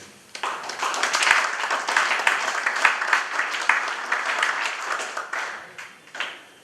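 Sustained applause from a large conference audience thanking the panelists, dense steady clapping that holds for several seconds before thinning out into a few last claps.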